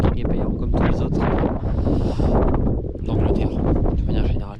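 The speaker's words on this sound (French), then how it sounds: "Là, je vous avoue que ça souffle un peu beaucoup" Strong wind gusting outdoors on the Welsh coast, loud and continuous with heavy rumbling buffeting against the microphone throughout, while people talk over it.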